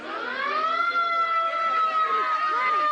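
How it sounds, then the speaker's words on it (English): A wailing ambulance siren sweeps up and down continuously, fairly loud and close, with faint crowd chatter beneath it. "I guess somebody did call the ambulance."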